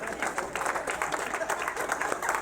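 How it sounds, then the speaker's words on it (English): An audience at a real estate seminar applauding, a dense steady wash of many hands clapping at moderate distance for the whole stretch. "Give her a huge round of applause"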